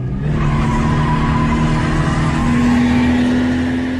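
A car pulls away and drifts, its engine droning steadily beneath a sustained, wavering tire squeal that holds close and loud for the whole stretch.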